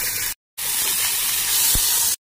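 Prawns fry in a hot pan with a loud, steady hiss and sizzle. The sound cuts out briefly, resumes close and even, then stops abruptly.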